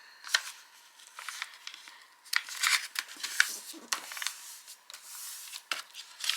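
Paper being folded in half by hand to make a small book, giving a series of close, soft crinkles, rubs and creasing swipes in irregular bursts, with quiet pauses between them and no talk.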